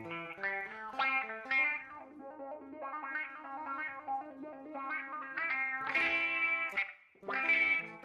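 Electric guitar run through an envelope filter effect, giving funky, duck-like quacking tones that swell with each pluck over about eight seconds of continuous playing, with louder bursts near the end.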